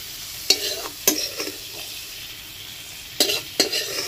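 Prawns frying and being stirred in a pan for prawn rice, a steady sizzle under a series of sharp scraping stirs in two pairs, close and clear with no talk.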